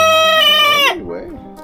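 A rooster crows loudly up close, a long drawn-out call that breaks off into lower throaty clucking.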